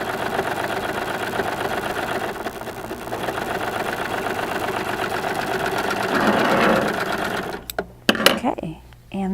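A Baby Lock serger runs fast and steady, sewing a gathered puffing strip for a pillow with a dense mechanical whir. It stops abruptly near the end, leaving a few soft handling clicks.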